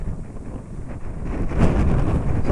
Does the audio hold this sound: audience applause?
no